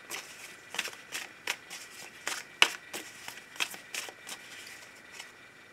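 Playing cards are shuffled and cut in a quiet room: a series of short, crisp riffling bursts in an irregular rhythm, close and fairly soft, with no talk.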